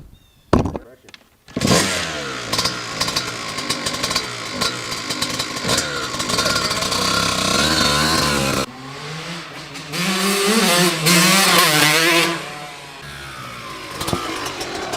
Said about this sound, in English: I'm going to run it up and down the driveway so you can hear this Pro Circuit motor sing